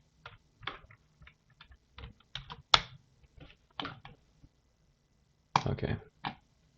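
Keys tapped on a computer keyboard while a password is entered, in short irregular bursts of clicks with pauses and a final quick flurry, close and fairly quiet with no talking.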